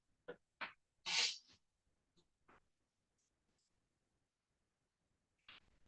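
A single sneeze in a quiet courtroom during a preliminary examination, with a few short sharp bursts around it and then near silence, close and fairly soft.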